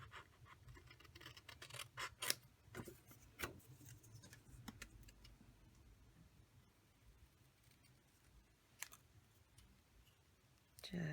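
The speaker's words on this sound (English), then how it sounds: "I don't have anything to cut this guy out with except for scissors, so we'll just give him a trim" Scissors trim around a stamped paper image for a handmade card: quiet, sharp snips and clicks come at irregular intervals, some in quick pairs, against near silence.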